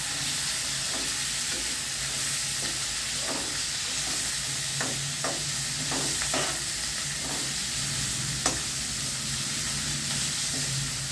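Broad beans (chikkudukaya) fry in a pan, a steady close sizzle with repeated scraping and clacking of a spatula turning them at an uneven rhythm.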